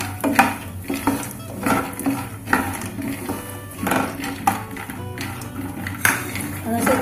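Peanuts frying in ghee in a kadhai over a medium flame are stirred with a spoon, giving repeated scraping, clinking strokes against the metal pan at a steady, unhurried rhythm, close by, with a voice heard at times.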